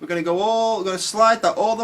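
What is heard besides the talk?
No distinct noise like a dog, phone or traffic.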